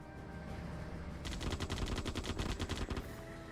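Gunfire peppering an enemy unit in the strategy game Shattered Union: a rapid burst of machine-gun fire breaks out after a low rumble and rattles on steadily for about two seconds, loud and close.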